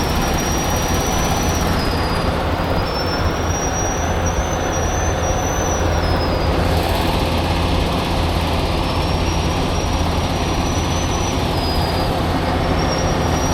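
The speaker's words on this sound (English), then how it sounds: "That squealing you hear is my winch brake." A heavy rotator tow truck's winch brake squeals against its metal drum, a continuous high-pitched whine that wavers and repeats in long stretches over a loud, steady engine rumble.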